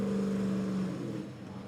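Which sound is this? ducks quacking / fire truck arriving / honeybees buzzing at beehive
fire truck arriving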